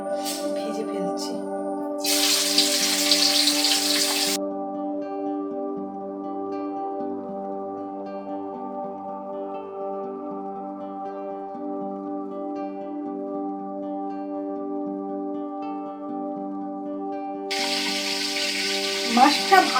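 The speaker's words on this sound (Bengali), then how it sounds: "তেল গরম হয়ে গেছে, এবার আমি মাছের মাথাটা ভেজে ফেলছি।" A fish head frying in hot oil, a steady close sizzle that runs throughout, with brief louder hissing bursts near the start and the end.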